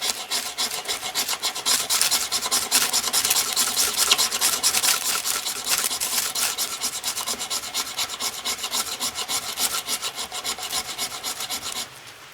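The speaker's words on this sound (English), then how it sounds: "I'm using my Friendly Swede fire starter, and this did not come with a razor sharp spine." The spine of a Morakniv Basic 511 knife scrapes a Friendly Swede ferro rod fire starter in fast, repeated rasping strokes, loud and close, continuing for about twelve seconds before stopping abruptly.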